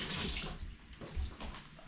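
Scallions rinsed under a running tap in a kitchen sink while cooking Jamaican ackee and saltfish, a steady hiss of flowing water splashing close by, swelling and easing for about two seconds with no talk.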